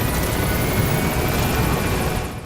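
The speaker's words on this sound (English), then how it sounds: "Support helicopter has arrived." A support helicopter in the video game Metal Gear Solid V: The Phantom Pain hovers close by with a loud, dense rotor roar and steady rumbling throb that holds constant before easing slightly at the end.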